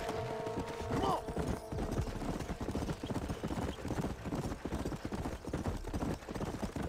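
Horse hooves gallop in rapid, steady clip-clop in Red Dead Redemption, continuous and fairly close, with a brief whinny near the start.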